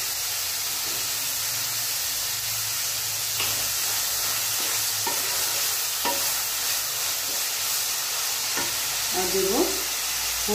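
Pasta mixed with curd is stirred in a hot pan over a constant sizzling hiss, with occasional spoon scrapes and taps against the pan and a brief voice near the end.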